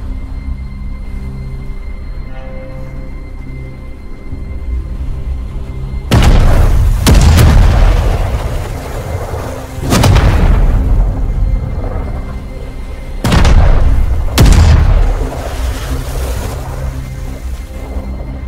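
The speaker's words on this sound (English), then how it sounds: "The cannons had opened fire upon the ship" Shore cannons firing on the SS Morrison, a ship off the coast of Japan under the shogun's policy: four heavy booms, the last two close together, each rolling out over a steady low rumble, with no talking.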